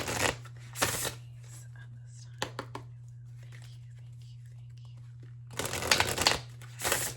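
Oracle cards shuffle in short crisp bursts, one near the start and a longer flurry toward the end, close and fairly quiet over a low steady hum with faint soft voice between.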